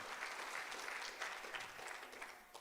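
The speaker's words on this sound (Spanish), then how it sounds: "Ahora denle un fuerte aplauso al Señor" A church congregation claps during a worship service, a faint, steady patter of many hands heard at low level from across the room, with no voice over it.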